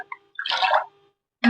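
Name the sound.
stirring coconut sol kadhi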